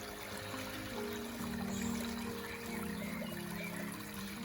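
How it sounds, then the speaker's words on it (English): Garden pond waterfall and bubbling urn trickling steadily over rocks, a continuous soft wash of running water heard alone at low level. "you can still see the waterfall, still see the bubbling rocks, bubbling urn"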